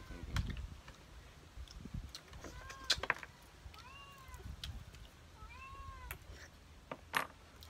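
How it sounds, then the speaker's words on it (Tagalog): Several cats meow outdoors behind a house, their calls rising and falling in short bursts spread over several seconds, set against soft background clatter and rustling. "Mga pusa na yan."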